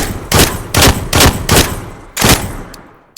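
Shotgun blasts in a video game, five heavy booming shots at an uneven pace with short gaps between them, loud and close, followed by a faint click at the end.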